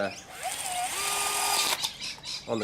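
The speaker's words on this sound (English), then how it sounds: "take my trusty battery drill and give it a little drill through" A cordless battery drill bores through the cap end of a plastic water bottle cut in half, its motor giving a loud, close, rising whine that holds steady for nearly two seconds before stopping, followed by softer handling noises.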